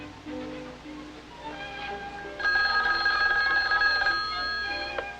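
A telephone rings on a mid-century direct-distance-dialed call, loud, clear repeated bell tones alone after a brief lead-in, with no talking.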